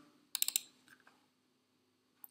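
A few quick computer mouse clicks, close and crisp, made while working in the TTool modeling software, followed by a quiet pause and one more faint click at the end.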